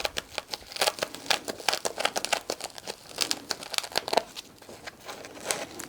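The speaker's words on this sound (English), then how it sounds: "you just kind of like teasing the foam back and then chasing it along" Layers of foam are teased and pulled apart by hand in a workshop, producing a quick run of close, dry crinkling and soft tearing crackles in irregular bursts.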